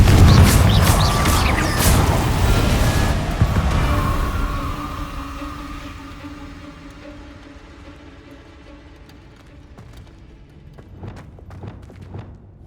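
A Confringo blasting spell goes off in the video game Hogwarts Legacy as a loud, close booming blast with crackling debris, decaying into a long low rumble and fading to faint scattered taps.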